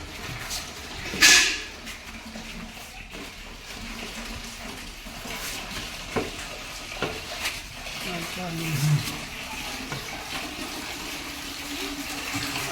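Water runs from a village house tap into a vessel, a steady, moderately loud splashing stream with occasional clunks, while a person talks over it.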